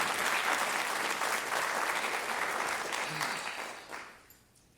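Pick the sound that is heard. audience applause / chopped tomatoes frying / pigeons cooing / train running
audience applause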